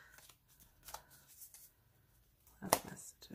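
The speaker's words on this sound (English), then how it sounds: "It's always tricky shuffling these because they're little hearts." A deck of small heart-shaped cards is shuffled for a card reading, giving soft papery riffles and a sharp, bright burst of flicking cards near the end, close and clear.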